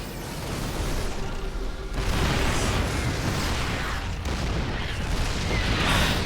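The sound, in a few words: siege tanks firing in StarCraft 2 video game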